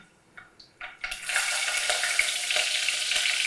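Curry leaves and green chilies dropped into hot oil in a pan, a few small clicks followed by a sudden loud, steady crackling sizzle that carries on close and bright.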